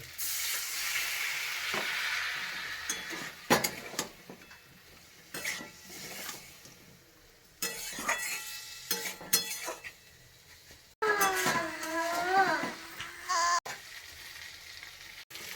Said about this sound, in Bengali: ভালো করে কষানো হচ্ছে কষানোটা ভালোর জন্য একটুখানি জল